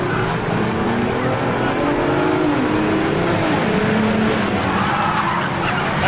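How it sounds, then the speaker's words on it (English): Race cars in a six-cylinder enduro race at a short track, engines roaring together with tires squealing and skidding through a corner, loud and continuous. "6-cylinder enduro underway."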